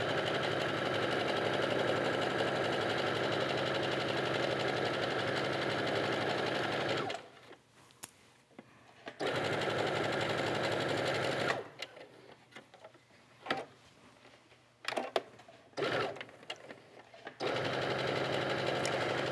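A sewing machine stitches upcycled felted wool in a close, steady mechanical whir. The run breaks off for a few seconds, then comes back in short bursts and a final sustained stretch.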